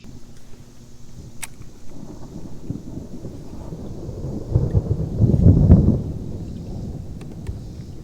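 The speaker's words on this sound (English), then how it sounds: "Can you guys hear that thunder?" Distant thunder rolling during a thunderstorm on the water, a low steady rumble that swells louder midway and then fades back to a faint background roar.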